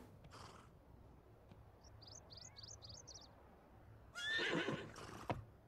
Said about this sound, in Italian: posso abbracciare il cavallo